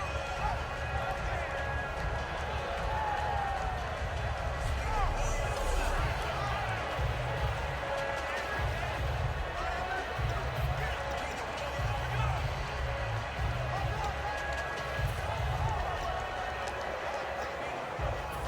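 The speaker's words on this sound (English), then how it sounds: "Crowd getting in it a bit already." Stadium crowd noise from a Madden 17 football game between the 49ers and Jets: a continuous broad roar of a large crowd throughout, with a voice speaking over it.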